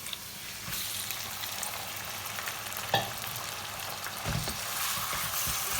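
Chicken pieces frying in a pan for Singaporean rice, a continuous soft crackling sizzle with an occasional sharp tap from a utensil, fairly quiet and close, with no talk.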